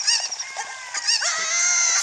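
A chicken in The Legend of Zelda: Ocarina of Time 3D gives a string of bright clucks and squawks, several short calls in quick succession that end in a longer sustained cry, loud and clear with no speech.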